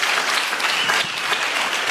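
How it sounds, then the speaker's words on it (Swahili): A church congregation claps together in a steady, dense round of applause, loud and continuous from start to finish. "Tumpigieni makofi jameni"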